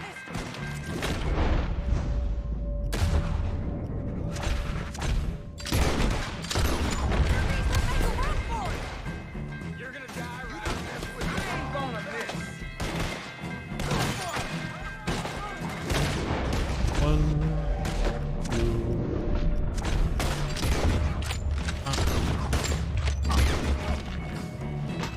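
Gunfire rattles through a Red Dead Redemption 2 shootout, repeated sharp shots and crashes in irregular bursts over game music and effects, with someone talking now and then between volleys.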